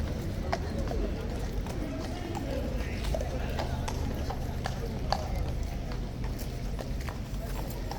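A guard horse's hooves clip-clop on hard ground in a steady walking rhythm as an officer leads it back into its box, with people talking over the hoofbeats.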